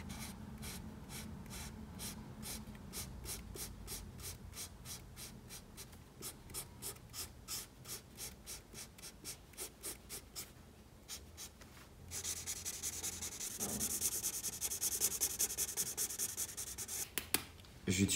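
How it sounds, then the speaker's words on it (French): A marker colors a drawing in Berry Red, with quick rhythmic back-and-forth scratching strokes close to the paper, then a denser, louder rubbing sound toward the end. "je vais colorier avec la couleur Berry Red toutes ces surfaces-là"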